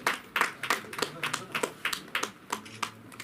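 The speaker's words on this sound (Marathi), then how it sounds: "टाळ्यांच्या गजरात स्वागत करूया प्रीतगंध या काव्यसंग्रहाचं." An audience at a poetry forum's anniversary gathering claps to welcome the release of a poetry collection, a modest run of separate, fairly quick handclaps under a faint voice.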